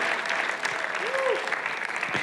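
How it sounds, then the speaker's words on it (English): Steady audience applause, many hands clapping continuously with a murmur of crowd noise throughout. "Somebody give the Lord a hand clap for no taxes."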